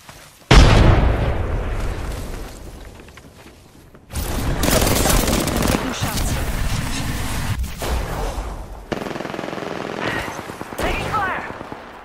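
Loud booming explosions and bursts of gunfire in a shooter video game, with a sharp blast near the start and another heavy blast around four seconds in, followed by sustained rumbling combat noise.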